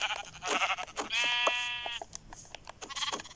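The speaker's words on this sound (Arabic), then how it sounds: "خروف" Sheep bleating in the video game Minecraft, several short bleats with one long wavering bleat in the middle, close and fairly loud, with no talking.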